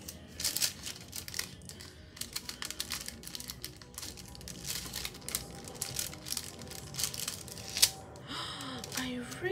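Paper for a planner dashboard cut and ripped by hand, giving close crinkling, snipping and tearing noises in irregular bursts, with a sharper rip near the end and faint talk in the background.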